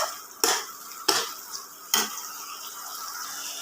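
Ginger-garlic paste with tomatoes is stir-fried in a pan for a Bengali koi fish dish: three sharp spatula scrapes land over a continuous close sizzle.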